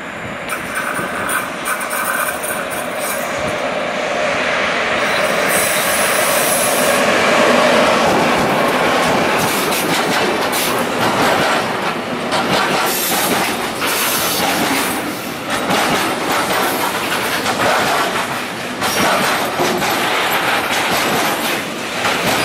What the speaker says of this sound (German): Da kommt eine Vectron. KLV.